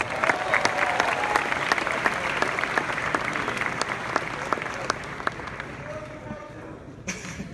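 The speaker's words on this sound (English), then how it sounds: "Round of applause for those guys." An event crowd applauds the setup crew, a loud, continuous wash of clapping with sharp individual claps standing out, slowly tapering off near the end.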